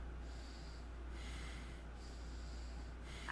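Nervous breathing on a voicemail in the video game Honey Hotline, with slow, regular breaths over a low steady hum, three in and out cycles, close and faint.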